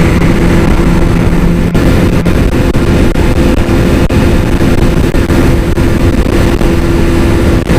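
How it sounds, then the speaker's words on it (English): A BMW S1000RR sport motorcycle's engine drones loud and close, a steady rumbling roar with a faint whine that holds evenly throughout, without speech. "Love the sound of the bike,"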